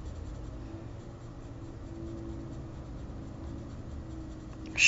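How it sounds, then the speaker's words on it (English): A pencil makes steady, faint scratching strokes on paper while drawing, in a continuous soft texture with no talking. "you can see the way that I'm moving my pencil"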